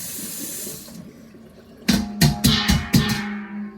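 A metal bowl is washed under a running kitchen tap: a soft trickle first, then several loud bursts of splashing water striking the bowl in quick succession, close by with no talk.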